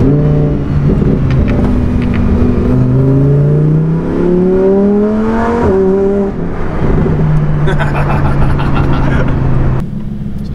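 A new Lamborghini drives with a raspy exhaust, the engine note rising and falling through gear changes, loud and steady, with a voice talking over it.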